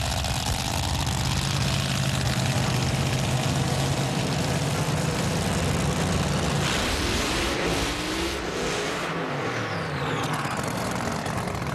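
Top Alcohol Dragster engines roar at a drag race at the 2010 Las Vegas Nationals, a loud, continuous, dense engine blast that shifts partway through into a rising, sweeping whine.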